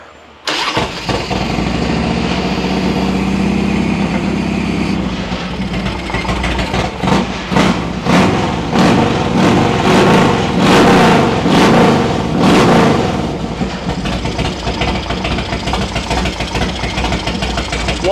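A Harley-Davidson FXR motorcycle cranks and fires, then settles into a loud, lumpy idle with several throttle blips around the middle before it evens out, heard close with no talking.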